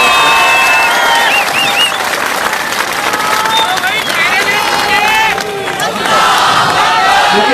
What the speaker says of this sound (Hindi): तो एक जोरदार तालियां अपने खुद के लिए बना दीजिए।